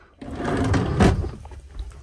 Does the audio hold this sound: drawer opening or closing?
yes